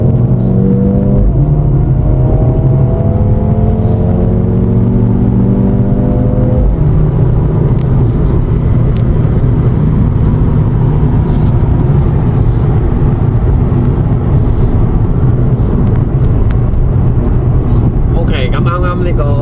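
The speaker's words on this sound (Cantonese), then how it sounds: "呢部就係 Benz AMG CLA35安裝咗 DTE Pedal Box" A Mercedes-Benz AMG CLA35 fitted with a DTE Pedal Box accelerates, a loud close engine drone rising in pitch then settling into a steady roar, with people talking over it.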